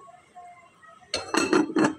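Metal lid clattering onto a cooking pot of fish and moringa soup: a few quick clanks and rattles in close succession after a quiet stretch, near and fairly loud.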